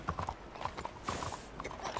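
Steady clip-clopping of horse hooves at a brisk trot in Red Dead Redemption 2, close and fairly loud, with faint background game ambience.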